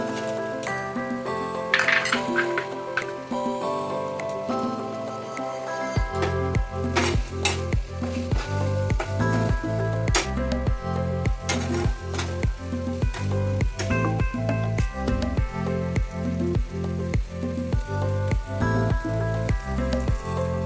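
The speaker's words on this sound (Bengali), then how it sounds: "আগে থেকে মুগের ডালটা ভেজে দিয়ে রাখা ছিল, ছেড়ে দিচ্ছি।" Pre-fried moong dal is tipped into a hot pan for a young jackfruit dish, joining a continuous sizzle. After a few seconds, rhythmic stirring knocks and metallic clinks come close and steady, with no talking.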